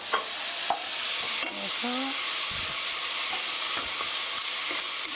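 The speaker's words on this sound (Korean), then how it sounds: "양파가 투명하게 될 때까지 볶아주세요." Onion and garlic stir-fried in a pan for mapo tofu, a constant loud sizzle with scraping and stirring knocks as the spatula moves, while a voice speaks briefly.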